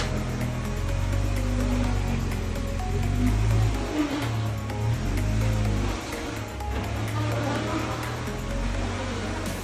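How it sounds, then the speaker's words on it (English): Cargo trailer tire rubbing against PVC while the trailer is moved: a steady low droning rumble with a continuous scraping, grinding texture, fairly close and constant, with a brief dip partway through. "You can hear the tire rubbing on the PVC"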